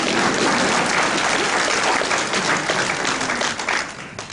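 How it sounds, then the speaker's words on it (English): A convention panel audience at Phoenix Comicon 2012 applauding steadily and loudly, dense clapping that holds for a few seconds before gradually thinning out toward the end. "You can applaud for Eric McCormick."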